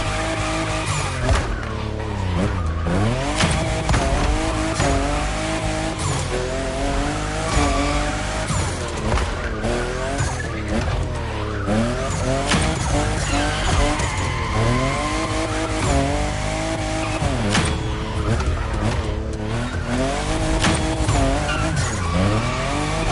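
A fifth-generation Toyota Supra in a gymkhana event in The Crew Motorfest, its engine loud and revving up and down through a sustained run, with repeated tire squeals and skids as it slides through turns.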